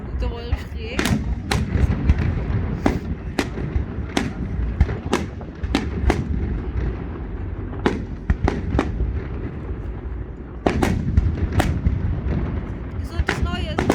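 Fireworks bursting at the Dresden city festival, loud sharp bangs firing in an irregular rapid sequence with deep booming echoes, while people chat in the background.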